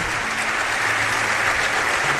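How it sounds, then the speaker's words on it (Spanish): A crowd claps steadily, a dense, even wash of applause without pause. "Pido un aplauso para él."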